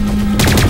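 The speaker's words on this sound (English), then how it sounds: "It shoots in bursts of 3 if I hold it down." A burst-firing gun in the video game Lost Planet 3 lets off a quick, loud cluster of rapid shots in under a second, close and punchy over a low hum.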